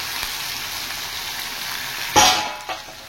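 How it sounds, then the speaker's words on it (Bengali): Raw banana and spinach sautéing lightly in a hot pan, a steady sizzle with a louder burst of frying as the vegetables are stirred near the end, close and without talking. "এই সবজিগুলো একটু হালকা সাঁতলে নেব"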